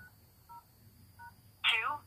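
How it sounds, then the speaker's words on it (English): Voicemail passcode being keyed on a telephone keypad: three short, evenly spaced dual-tone beeps, then a louder burst of a voice prompt at the end. "Please enter your passcode, then press pound."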